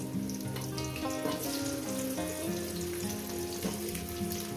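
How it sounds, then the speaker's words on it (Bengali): Potatoes frying in a pan with salt and turmeric for a cabbage and rohu fish-head dish, a constant hiss of sizzling oil running beneath tonal background music. "আলুগুলো দিয়ে আমি ভালো করে সুন্দর করে মিনিমাম পাঁচ মিনিট ধরে আমি লবণ হলুদের সঙ্গে আমি এটাকে ভেজে নেব"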